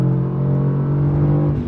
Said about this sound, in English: Shifting sounds and feels more aggressive.